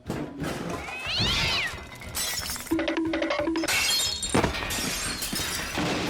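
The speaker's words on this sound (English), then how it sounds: "We can trash the houses and smash their valuables." Glass and valuables shatter and crash inside a house in Skyrim, with repeated loud smashes over several seconds, along with a cat's meow and other clattering game sounds.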